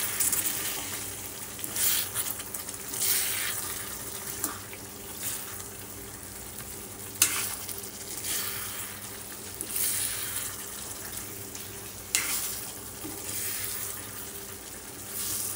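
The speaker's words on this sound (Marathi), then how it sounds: "याला आता आपण परतून घेऊ" Stuffed eggplants coated with peanut and coconut powder sautéing in a pan, a steady close frying sizzle broken by periodic scraping and stirring clatter.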